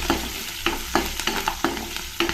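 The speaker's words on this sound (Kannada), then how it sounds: "ಎಣ್ಣೆಯಲ್ಲಿ ಮೆಣಸಿನ್ಕಾಯಿ ಸ್ವಲ್ಪ ಚೆನ್ನಾಗಿ ಫ್ರೈ ಆಗಬೇಕು" Green chillies frying in oil in a pan, a constant crackling sizzle punctuated by rapid, rhythmic spatula scrapes and knocks about twice a second, close and loud, no voices.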